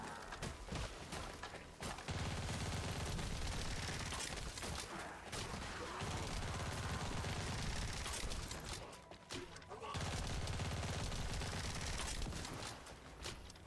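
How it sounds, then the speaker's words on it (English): Sustained gunfire in the video game The First Descendant rattles in long, dense automatic bursts, broken by short pauses, loud and close throughout with no talk over it. "Oh yeah, I gotta shoot."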